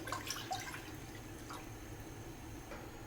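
Water is poured into a cooking pot for a sweet corn chicken soup, heard as a faint, steady trickling and splashing with a few soft drips, quiet and without talk.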